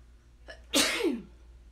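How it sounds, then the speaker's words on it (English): A single loud sneeze bursts out close by after a short intake of breath, with nothing else around it in a quiet room. "There's the morning sneezes."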